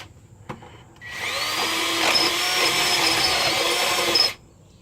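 A power drill with a 10 bit bores out a broken exhaust stud on a 300ZX, a loud steady high-pitched whine starting abruptly, holding for about three seconds, then cutting off, close by with no talk.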